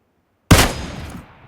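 A single loud sniper rifle gunshot in a video game cracks suddenly out of silence, followed by a decaying boom and tail.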